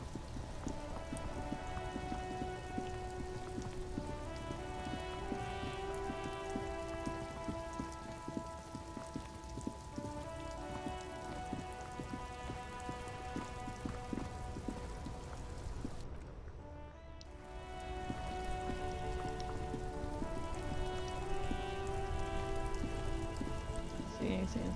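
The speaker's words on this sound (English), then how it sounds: "Stuck in the rain in a traffic jam, man." Steady rain pours down in Disco Elysium, a constant dense patter running throughout over a bed of sustained musical tones, with a brief dip near the end before it resumes.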